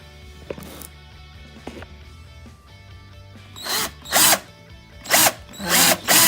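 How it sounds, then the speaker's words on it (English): A power screwdriver drives into a hole in wood while building a mid-century pot stand, with a few short, loud whirring bursts near the end after quieter handling clicks, close up and without speech. "take my screwdriver and point it into the hole"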